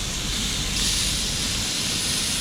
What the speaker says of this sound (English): we serve it in a sizzling pan